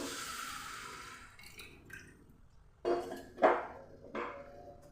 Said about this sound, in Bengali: আর দিয়ে দিচ্ছি জল